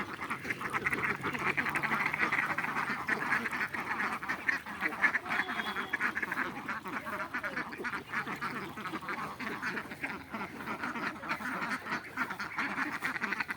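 A flock of ducks quacking steadily in the background on a duck farm, fairly faint, with a few honks mixed into the continuous outdoor din.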